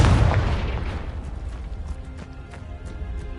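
A fire blast spell from the Hogwarts Legacy game on PS5 erupts in a loud, deep boom that rolls off into a crackling, rumbling decay with scattered pops, no talk.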